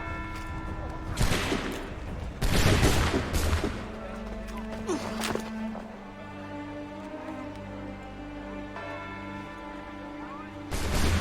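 Musket volleys crack in Assassin's Creed III, several loud ragged bursts of massed gunfire, some close together and one more at the end, with shouted voices and game sounds in between.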